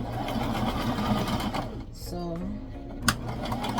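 A sewing machine runs a zigzag stitch across a tutu skirt, its steady mechanical whir continuous and close, briefly dipping midway, with a person speaking over it.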